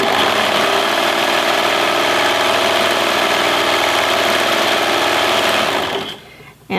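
A Brother 1034D serger stitches a rolled hem, its motor and needles running in a steady, loud, fast whir for about six seconds before stopping abruptly.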